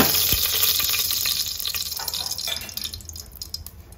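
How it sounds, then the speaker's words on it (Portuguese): Beef with garlic and pepper sautéing in a spoonful of oil in a pan, giving a steady crackling sizzle with small pops and scraping, loud at first and gradually easing. "Aqui, ó, já está refogando, olha a cor que está ficando"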